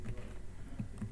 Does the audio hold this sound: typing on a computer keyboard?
yes